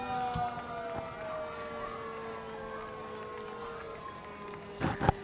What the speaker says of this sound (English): Lights and sirens a-blaring.